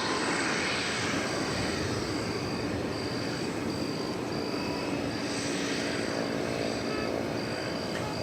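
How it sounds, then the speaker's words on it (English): An MD-11 airliner taking off from runway 18 left at DFW Airport, a steady loud engine roar with a high whine on top, heard from a distance and holding constant throughout. "it looks like it's going to be a takeoff here on 18 left of this magnificent MD-11"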